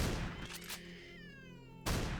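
A cat gives a drawn-out, wavering meow under a dense bed of game noise in the video game Dead Air, with sharp bangs and a burst of noise around it.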